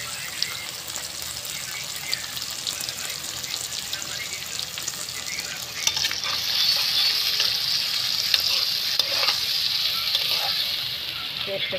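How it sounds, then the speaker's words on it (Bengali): Onions and green chillies sizzle in hot oil, a continuous close frying hiss that grows louder and brighter partway through, with scattered crackles and faint stirring clicks. "এই তেলে ফোড়ন দিব পেঁয়াজ আর কাঁচা লঙ্কা"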